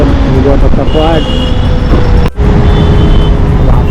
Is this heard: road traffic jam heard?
yes